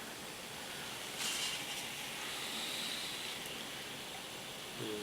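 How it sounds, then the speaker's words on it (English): Coca-Cola Energy drink poured out of its can, a steady fizzing hiss that runs for several seconds with a brief louder splash near the start, close and alone with no talk. "pour some of this out."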